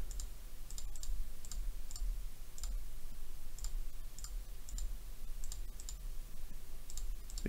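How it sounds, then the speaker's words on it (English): Computer mouse clicks while playing the game Dungeon Master with no music: sharp, evenly spaced clicks, roughly two per second, close and distinct over a steady low hum, with no talking. "So you can hear all my clicking away."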